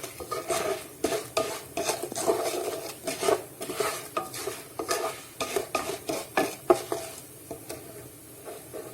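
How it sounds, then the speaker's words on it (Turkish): Ingredients are sautéed in a pan with a spoon scraping and clinking against the metal in a steady rhythmic stirring, over a soft sizzle, close up with no talk. "Bunu güzel kavuruyorum. İyice böyle mis gibi kokusu çıkana kadar kavuruyorum."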